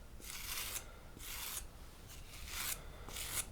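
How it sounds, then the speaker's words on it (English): A clay rib scrapes the high points of a hard clay sphere in four short, close rasping strokes separated by brief quiet pauses. "with this harder sphere, I'm going to kind of scrape the high points"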